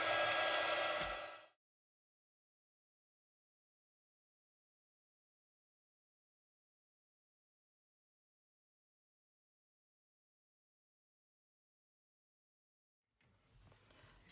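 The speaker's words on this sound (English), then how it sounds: "now we need the heat gun, so it's going to be noisy" A heat gun used for embossing a Christmas card blows a loud, steady rushing hiss for just over a second, then cuts out into silence, with a fainter burst of noise returning at the very end.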